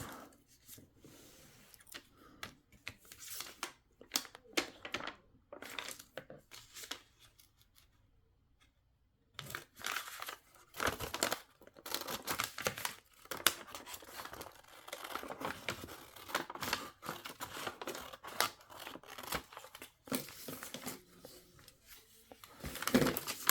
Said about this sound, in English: All right, so let me just cut it.